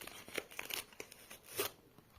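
Paper surprise packet being opened by hand, with close, faint crinkling and a few sharp tearing rustles in short bursts, no talking.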